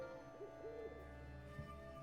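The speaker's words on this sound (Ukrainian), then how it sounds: "Сова небезпечний хижак." Owl hoots in the video game Endling, a couple of soft tonal calls over a steady low ambient game hum, fairly quiet with no voices.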